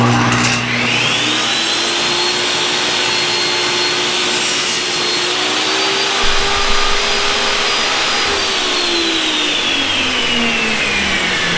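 A table saw fitted with a sled cuts through a piece of wood: a loud, steady motor whine that holds while the blade works through the board, then begins to fall away as the cut finishes.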